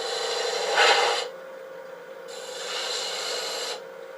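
A lathe tool cuts a V groove to define a bead on a spinning boxwood box, giving two steady, close rasping scrapes over a constant motor hum, the first brief and brighter, the second longer and softer.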